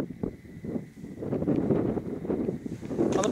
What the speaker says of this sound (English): I'm just going to wait for this wind.